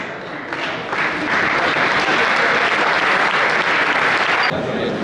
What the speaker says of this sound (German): nochmal einen herzlichen Willkommensapplaus für Cindy Berger